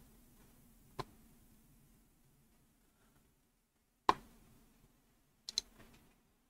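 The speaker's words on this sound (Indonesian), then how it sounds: "Sekali klik bisa 2 klik sekaligus yang kekirim." A faulty computer mouse that registers double clicks gives a few crisp, close clicks, one on its own, then another, then a quick doubled pair, over a faint low room hum.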